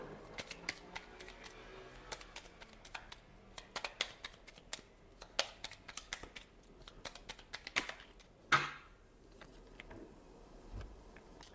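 Tarot cards are handled and shuffled up close in a quiet room, making a quick series of soft crisp clicks and snaps with one sharper flutter near the end.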